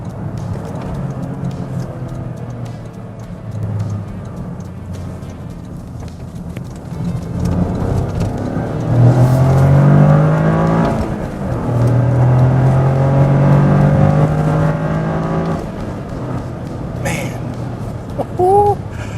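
A 2024 Toyota GR Corolla with a manual gearbox revs and blips its engine for rev-matched downshifts while slowing toward a stoplight, rising engine tones swelling under continuous talk inside the cabin.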